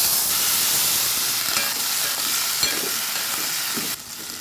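Tomato pieces cut into eighths hiss and fry in hot oil left from frying dried red chillies for a tomato, sesame and coriander chutney, with a steady close sizzle and light stirring clicks. The sound drops away abruptly near the end, and no one speaks.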